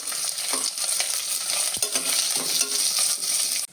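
Onion sautéing in a pan for vegetable biryani, with loud bright sizzling and rhythmic spatula stirring scrapes close by, one sharp knock midway, no speech.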